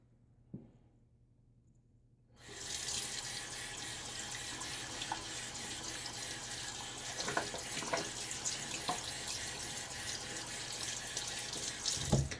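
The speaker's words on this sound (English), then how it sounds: "Wanted to rinse off the outside of the mug." Running tap water rinsing the outside of a shaving mug in a sink, a steady close splashing stream that starts abruptly after a quiet moment and continues to the end with small splash variations.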